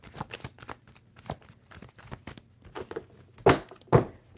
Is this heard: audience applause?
no